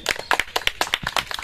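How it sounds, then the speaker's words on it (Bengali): Children clapping their hands together in a loose, uneven burst of sharp, close claps that overlap irregularly, fairly loud and without talk. "সব বাচ্চারা হাততালি বাজাও"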